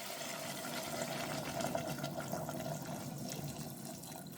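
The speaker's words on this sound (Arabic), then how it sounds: "ونمرق بالماء سخون" Hot water poured into broad beans and peas frying with artichoke thistle in a pan, a steady rushing, bubbling wash of liquid held at an even, moderate level throughout.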